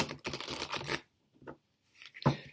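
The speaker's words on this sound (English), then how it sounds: "let's just give these another shuffle" Tarot cards are shuffled in quick riffling bursts, a long papery flurry first, then a few short, quieter flicks and a final snap, close and soft with silent gaps between.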